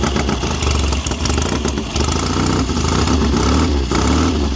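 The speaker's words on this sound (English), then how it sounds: "It's quite a loud bike as well, those straight pipes." A 1970 Triumph TR6R Desert Sled motorcycle runs on straight pipes, its engine loud and close with a continuous raspy, throbbing exhaust note that stays steady throughout.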